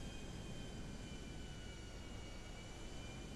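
A fixed-wing airplane flies in Grand Theft Auto V, its engine a loud, steady roar that fills the whole stretch without a break. No one speaks.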